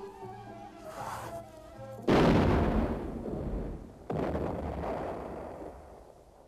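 Cartoon cannon fired during a siege, two heavy booming blasts in quick succession, each a sharp loud thud that rolls off into a decaying rumble after a short tonal lead-in.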